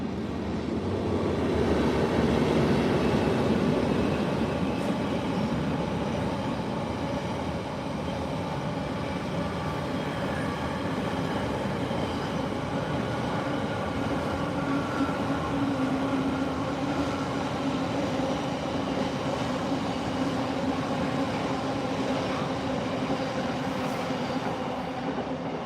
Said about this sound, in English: Could be a freight coming through on slow line.